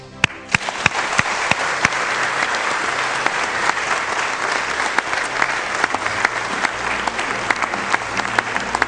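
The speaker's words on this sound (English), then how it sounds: "They deserve a warm round of applause" Live studio audience at a presidential candidates' debate breaks into a warm, sustained round of applause, dense steady clapping with sharp individual claps standing out early on.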